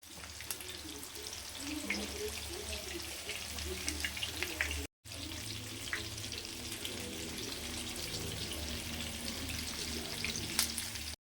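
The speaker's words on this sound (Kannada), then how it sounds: "ಒಳಗಡೆ ಈ ಥರ ಡೀಪ್ ಫ್ರೈ ಮಾಡಿದ್ರೆ ಆಯಿತು" Chicken deep frying in oil for a KFC-style dish, a steady, close, dense crackling sizzle that fills the whole clip with scattered sharper pops and one brief dropout midway.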